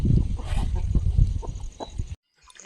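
Chickens clucking close by in a short run of choppy, uneven calls over a low rustling background, cutting off abruptly near the end.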